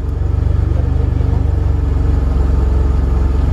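The Back to the Future car runs with a steady low engine rumble, close and continuous, with no talk over it.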